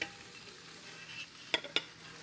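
A spoon scrapes burnt beef from the bottom of a three-meat stew pot in quiet scraping strokes, ending with two sharp metallic clinks close by.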